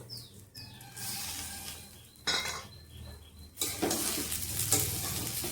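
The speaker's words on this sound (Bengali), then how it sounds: "তো টমেটো দেওয়ার পরে কিছুক্ষণ নাড়াচাড়া করেছি" Chopped tomatoes added to a pan of fried vegetables sizzle and fry while being stirred, with metal utensil scrapes and clatter against the pan in several bursts, close and fairly loud, no talking.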